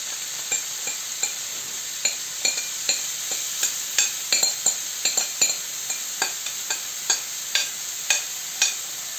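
Chopped onion sizzles in melted butter in a pan, a bright steady hiss close by, broken by regular sharp taps and scrapes of a spoon stirring. No voices.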